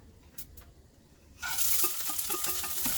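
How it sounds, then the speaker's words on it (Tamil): Mustard seeds, urad dal and chana dal drop into hot oil in a pan. After a quiet moment a sudden loud, crackling sizzle bursts out and keeps spitting and popping. "ஒரு பேனில் ஆஸ் யூஷுவல் எண்ணெய் ஊற்றிட்டு, எண்ணெய் காஞ்ச உடனே கடுகு, உளுத்தம்பருப்பு,"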